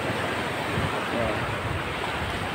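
Ocean waves at Lingayen Beach wash in as a continuous broadband rush of surf, with wind buffeting the microphone and no speech.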